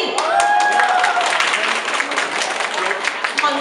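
Audience at a Vietnamese ao dai pageant claps in a sustained, fairly loud patter through a crowded hall while a host's voice talks over the applause.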